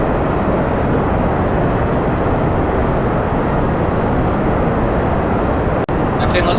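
A loud, steady rocket engine roar in Kerbal Space Program as the throttle is pushed up for launch, a dense broadband rumble holding constant throughout with a brief dropout near the end.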